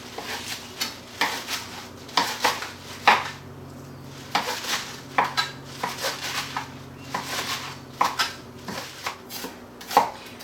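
Kitchen knife roughly chopping fresh spinach leaves on a cutting board, a steady series of sharp, close knife strikes in uneven bursts with brief pauses, no talking.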